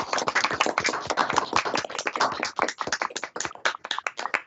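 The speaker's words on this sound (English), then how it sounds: "give a short round of applause." A committee meeting breaks into a short round of applause, with dense, close clapping from a small group that stays brisk and uneven for a few seconds.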